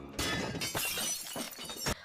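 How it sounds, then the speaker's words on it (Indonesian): A glass drink bottle thrown from a taxi smashes on the ground, with a sharp crash followed by scattered clinking fragments and further bursts of breaking glass. "mobil Shiva membuang botol minum dan membuat Shiva terbangun"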